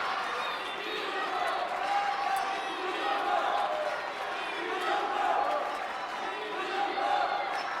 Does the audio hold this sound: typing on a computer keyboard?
no